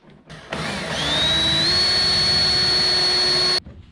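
A power drill bores through the plastic hull of a Vibe Shearwater 125 kayak while fitting a rudder foot control, a loud steady whine spinning up and holding for about three seconds before cutting off.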